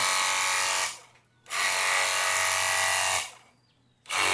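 A power sprayer blasts water across a rooftop in a loud, steady hiss. It runs in two long bursts split by a short pause and starts again at the end, with no voices.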